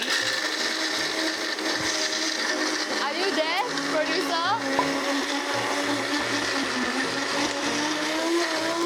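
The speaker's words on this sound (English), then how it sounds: "I'm just gonna blend it all up in my blender" A kitchen blender grinds toasted hazelnuts, white chocolate and a pinch of salt with a steady, loud whir throughout, while a person speaks briefly over it midway.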